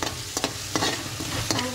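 Food is stir-fried in a hot pan in a home kitchen, with a continuous sizzle and several sharp scraping strokes of a utensil against the pan, close and without talk.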